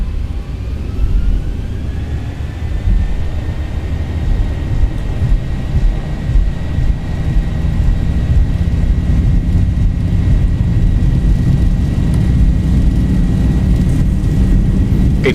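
Aircraft engine set to 40% thrust during takeoff, a loud steady roar with a rising whine, building slightly as the run continues without pause.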